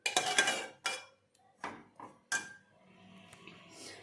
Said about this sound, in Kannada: ಇದನ್ನ ಒಂದು ಸ್ವಲ್ಪ ಹಂಗೆ ಚಮಚಲ್ಲೇ ಮ್ಯಾಶ್ ಮಾಡ್ಕೋತೀನಿ